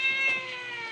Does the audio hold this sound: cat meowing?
yes